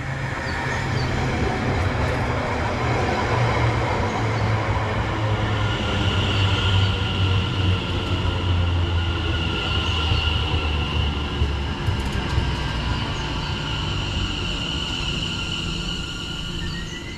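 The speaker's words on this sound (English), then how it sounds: "arriving now is going to be the 1027 Greater Anglia service to Hertford East from London Liverpool Street" Greater Anglia Class 720 train arriving at a station on the London Liverpool Street to Hertford East line, a loud, sustained rumble of wheels and motors with rising whine and rail clatter as it pulls in.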